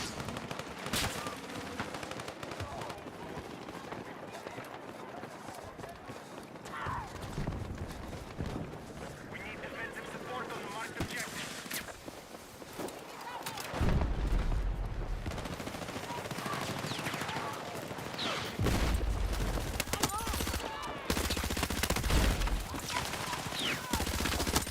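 Automatic P90 submachine gun fire in Battlefield 6, bursts of rapid shots mixed with footsteps and game action, running under near-constant talking from a player.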